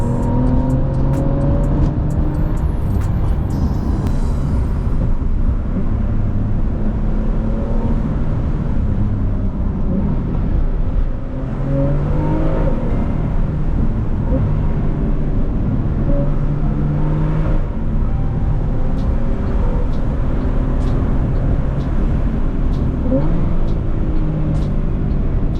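Tuned Porsche 911 Carrera 991.2 with a Stage 2 tune and aftermarket exhaust accelerating and shifting repeatedly, a loud continuous engine and exhaust roar with rising pitch sweeps, heard from inside the car as people talk over it.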